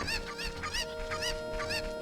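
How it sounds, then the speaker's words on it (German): Cucco chickens clucking in The Legend of Zelda: Ocarina of Time, repeated quick nasal clucks in a steady rhythm over a soft game music bed, no speech. "Danke, dass du meine Hühner eingesammelt hast."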